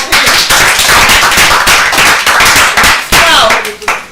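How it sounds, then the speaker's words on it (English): Loud, dense audience applause at a reality TV show, rapid clapping from many hands close by, sustained for several seconds before tapering. "A round of applause for him."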